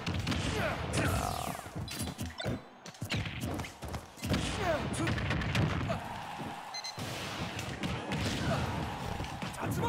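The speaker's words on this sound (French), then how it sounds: "Ça passe miraculeusement entre les explosions." Rapid bursts of explosions and crashing impacts pile up one after another, loud and chaotic, with brief gaps between volleys.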